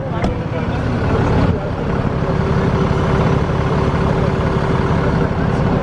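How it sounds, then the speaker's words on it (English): Cummins diesel engine idling in a 2019 RAM 3500 Limited pickup, a steady low rumble heard up close with a faint whine, while people talk over it. "let's hear the motor first"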